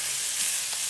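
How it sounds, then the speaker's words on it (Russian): Bacon-wrapped pork tenderloin medallions frying in a pan, a steady close crackling sizzle with no talk. "Несколько минут пожарим со второй стороны."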